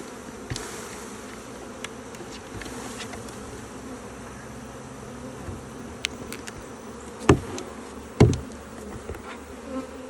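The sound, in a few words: honeybees buzzing in the air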